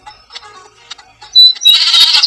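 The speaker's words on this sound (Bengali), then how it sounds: "এই ছাগলটা আমার সাথে কি করে ভাই?" Goat in a realistic village-themed video game, a loud nasal bleat breaking out after quieter scattered sounds and lasting to the end.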